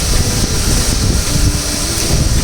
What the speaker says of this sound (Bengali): পাখা ঘুরতেছে, কিন্তু এই যে পাখা ঘুরতেছে, বাইরে যে আউটডোরটা ঘুরতেছে